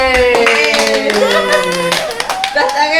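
Several people at a birthday party clap their hands in a quick, bright burst lasting a few seconds, close by, with voices and cheering mixed in.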